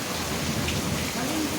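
Heavy night rain pours down in a dense, steady hiss, loud and close, with no break and no talking.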